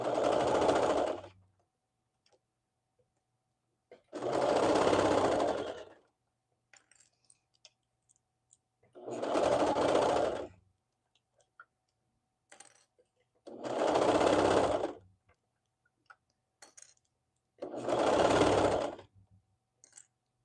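A sewing machine stitches a Summit Peak Hoodie in five evenly spaced runs of steady whirring, each about one to two seconds long, with quiet gaps and faint handling clicks between them.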